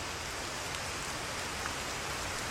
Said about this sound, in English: Finished my cool down, but it's really raining now.